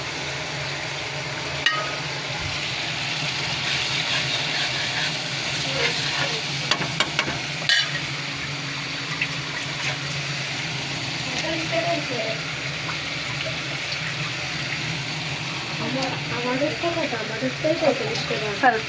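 Koi fish curry with potato, eggplant and sweet kakrol frying and being stirred in a pan, a steady sizzle with scraping stirs running throughout, and a voice talking now and then over it.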